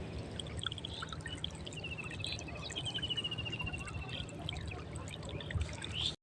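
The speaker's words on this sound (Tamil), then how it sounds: "இந்த போரில் தான் தண்ணி வருது பார்த்திங்களா." Water pouring from a borewell into an irrigated farm field: a faint, steady gushing wash heard from a distance, with a thin birdcall above it midway.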